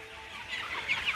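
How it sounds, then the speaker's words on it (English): A hen clucks softly and close by while being petted, making faint, low murmuring sounds that grow slightly toward the end, with no voices. "This chicken has never been pet before, and she loves it."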